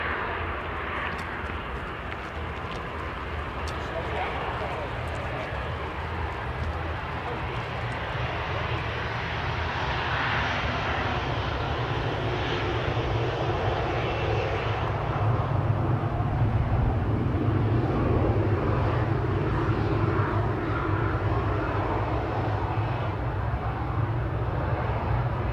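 A TUI airliner approaching Manchester Airport produces a steady engine roar with a low rumble that grows slightly louder midway and holds to the end.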